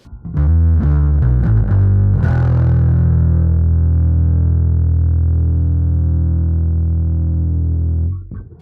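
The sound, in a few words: electric bass through fuzz distortion pedal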